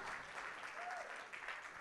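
A church congregation claps during a worship service, a steady dense wash of many hands applauding without pause, heard at a moderate distance.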